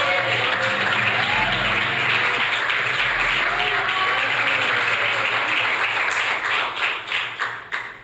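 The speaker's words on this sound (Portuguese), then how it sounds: "quem crê, quem recebe, dá uma salva de palmas" A church congregation breaks into a long round of applause after a sermon. Dense, steady clapping fills the room, then thins into scattered individual claps that die away near the end.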